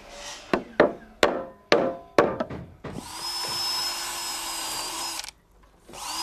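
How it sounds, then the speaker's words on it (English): A handful of sharp wooden knocks, then a power drill whirs steadily for about two seconds as it bores into bamboo, stopping abruptly before a short pause. "Always drill before you screw bamboo to stop your screws slipping out of position."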